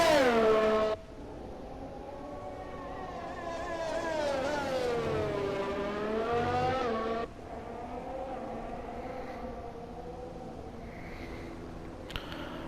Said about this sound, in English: It's not too bad of a racing car, this Racing Point.